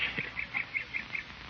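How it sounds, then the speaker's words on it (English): A bird calls again and again in quick, bright chirps at an even pace on a spring morning, with nobody talking. "Listen to the birds sing."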